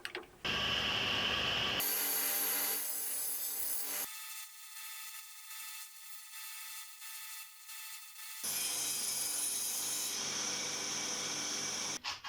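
A circular saw in a home workshop, set up to cut a wooden frame blank, runs loud and close, shifting between a harsh cutting rasp and a steadier whining drone over about twelve seconds with no talk.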